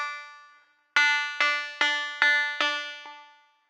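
A buzzy, metallic synthesized voice repeats a short clipped "t" syllable five times in a steady rhythm, each hit ringing with a resonant, filtered tone from flanger and radio effects on a Boss RC-505 MK2.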